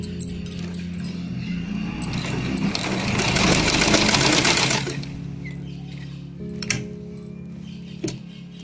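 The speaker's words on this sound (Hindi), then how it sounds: "मोड़ करके यहाँ पर सिलाई लगाएंगे।" A sewing machine stitches the folded fabric of a drawstring shorts waistband in a steady mechanical whir that swells louder mid-clip, then eases back to a quieter hum with a couple of sharp clicks.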